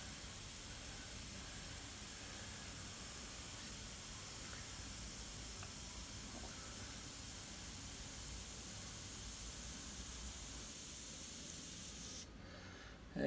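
An airbrush fitted with a needle cap sprays paint and air in a soft, even hiss that runs steadily for about twelve seconds before stopping abruptly.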